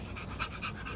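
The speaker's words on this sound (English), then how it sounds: "For a home, Tater will be a very, very great dog" A shelter dog in quarantine pants rapidly and steadily up close, a rhythmic series of breathy huffs repeating through the short moment with no talking.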